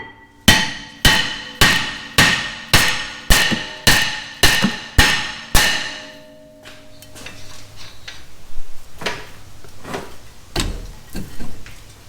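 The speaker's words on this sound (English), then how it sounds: "just start beating it with a hammer" Nine or ten sharp, evenly spaced hammer blows ring out on a brake rotor stuck to a Ford Escape hub, loud metallic clangs with ringing decay, followed by quieter, irregular knocks and shop noise.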